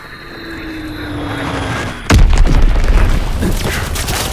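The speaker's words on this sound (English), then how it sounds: "Dropping Azon bomb!" An Azon bomb dropped from an aircraft bursts in Call of Duty WW2 gameplay: a sudden loud boom strikes mid-clip and then rolls on as a heavy, rumbling blast over a steady background drone.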